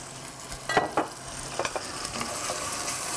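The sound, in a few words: wine poured onto browned meat sizzling in pan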